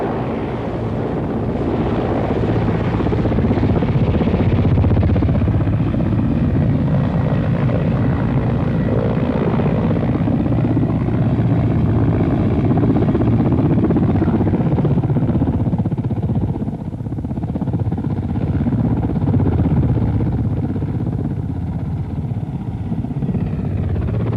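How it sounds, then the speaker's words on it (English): A Mi-8 military helicopter hovers low during a rescue winching operation, its rotor and turbine filling the air with a loud, continuous, close throbbing roar that holds steady throughout, with no voices. "Where the Mi-8 cannot land, its pilots use its low-flying and hovering capability to snatch the disabled by winching them up."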